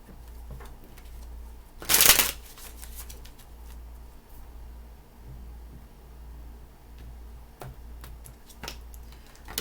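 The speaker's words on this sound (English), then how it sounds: "2 more shuffles." Tarot cards being shuffled in a reading: one short, dense riffling burst early on, then faint scattered ticks and taps of cards over a low steady hum.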